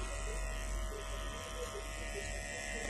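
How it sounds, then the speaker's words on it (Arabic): A Chinese-made electric hair clipper fitted with a zero guard hums with a steady, close, unbroken buzz for the whole stretch, with faint background voices. "هاي عندك ماكينة الصينية، بس هذا الصفر مالتها"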